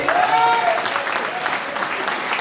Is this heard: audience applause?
yes